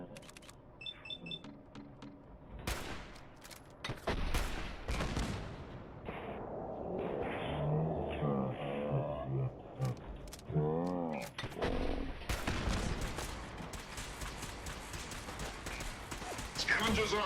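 Cannon fire aboard the USS Constitution in a naval video game, with booming blasts and crashes over a dense bed of battle noise, game music and voiced dialogue.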